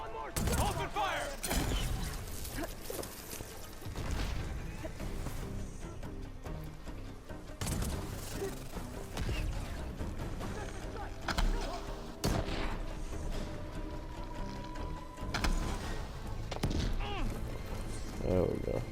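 Gunfire rings out in Horizon Forbidden West amid a busy battle mix, several sharp bursts scattered across the stretch with voices shouting over them.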